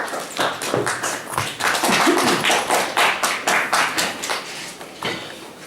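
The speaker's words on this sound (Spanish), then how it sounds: "recibirlo con fuertes palmas" An audience at the Sixth World Quinoa Congress claps loudly in a fast, rhythmic, almost synchronized beat of sharp, close hand claps that keeps going steadily for several seconds without speech.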